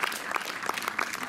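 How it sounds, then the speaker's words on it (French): Audience applause at a film festival jury prize ceremony in Montreuil: soft, steady clapping from a room of people, fairly faint and continuous over a short stretch. "vous pouvez les applaudir."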